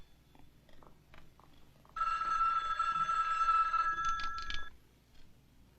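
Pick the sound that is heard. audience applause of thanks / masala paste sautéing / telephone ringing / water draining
telephone ringing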